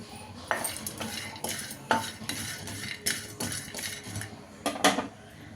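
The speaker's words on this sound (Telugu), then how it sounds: "మనం ఈ డ్రై ఫ్రూట్స్ అన్నిటిని ఒకేసారి వేసుకుని కొంచెం సిమ్లో పెట్టుకున్నాం సిమ్లో పెట్టుకుని జాగ్రత్తగా వేయించుకోవాలి మాడిపోకుండా" Dry fruits roasting on low heat in a pan for a flaxseed and dry fruit powder, with a spatula stirring in steady strokes that make repeated close scrapes and light metallic clinks over a soft background hiss.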